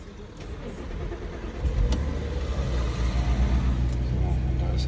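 A cold start of an Audi A6 Allroad Quattro 3.2 petrol engine, a steady running rumble that rises as it catches and settles into a loud, even idle close by, with someone talking briefly.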